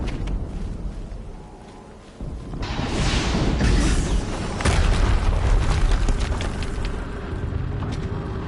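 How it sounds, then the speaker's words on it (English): Explosions in Horizon Zero Dawn erupt with loud booming bursts, a rumbling blast swelling after a quieter opening, then sustained crackling roar with further sharp impacts. "Another explosion."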